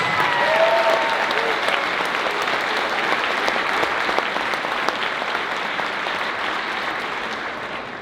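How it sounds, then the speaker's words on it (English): An audience at a middle school select band event gives a long, even round of applause for the students and their directors, dense crowd clapping that slowly fades toward the end. "A round of applause for all of these guys and their participating directors."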